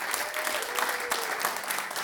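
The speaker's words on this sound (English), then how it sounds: "a big round of applause for Sam Nitzberg and friends" Warm, steady applause from a small audience in a loft music venue welcoming a band, close and continuous with a few faint voices in the crowd.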